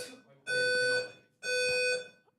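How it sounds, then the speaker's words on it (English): A building fire alarm going off with two long, loud electronic tones separated by a short gap, piercing and close, with no speech over it. "What, the fire alarm?"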